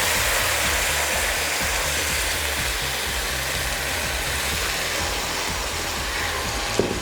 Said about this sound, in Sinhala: පොල් කිරි ටික එකතු කරා